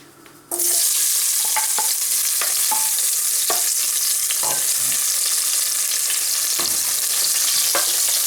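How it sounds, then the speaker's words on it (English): Fresh ginger and garlic hit hot oil in a pan with a sudden loud sizzle. It settles into a constant bright frying hiss broken by intermittent crackles and stirring clicks. "we've heated some oil up in the pan and we're going to fry off some fresh ginger and garlic"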